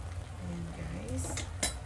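A metal lid goes back onto a cooking pot with a quick pair of close clinks over a low simmer, and a faint voice sits in the background.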